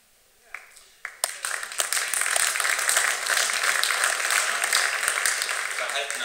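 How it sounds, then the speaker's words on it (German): Applause at a New Year's reception hall, starting with a few isolated claps that swell into steady, moderate clapping from a seated audience and keep going without cheering. "Verhaltener Beifall"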